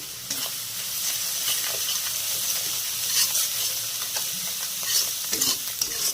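Ground spices with Kashmiri red chili powder sizzle and fry in hot oil in a pan, stirred steadily with close scraping and bubbling hiss throughout, no voices.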